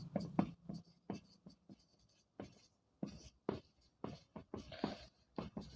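Chalk scratching across a blackboard during a Hindi-medium Class 9 physics lecture, a run of short, close taps and strokes in quick bursts with brief pauses between them.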